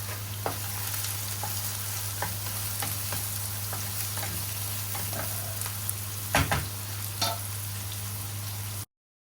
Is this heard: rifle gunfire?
no